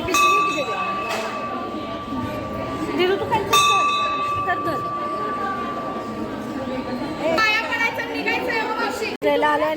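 Several bell strikes ring out among a chattering crowd at a yatra fair, one near the start and others midway, with people talking throughout.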